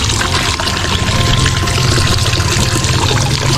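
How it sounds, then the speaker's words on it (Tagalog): Water pours without pause from a tap at a poultry farm, a loud, steady rushing splash that holds constant from start to finish with no talking. "Continuous flowing lang po."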